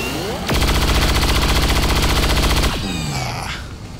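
Loud, sustained burst of rapid automatic gunfire in XCOM 2, about two seconds of dense firing close by, with softer game sounds before and after.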